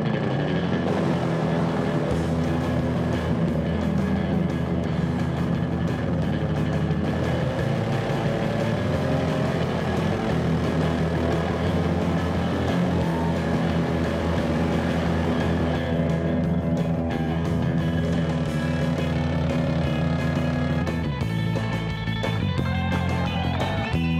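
A four-wheeler engine runs at wide open throttle through mud, a dense, steady, loud mechanical drone that holds without a break for the whole stretch.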